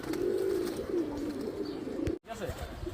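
Racing pigeon pairs coo in low, repeated throaty calls close by, a brief silence falling near the end before softer cooing resumes; a person talks in the background.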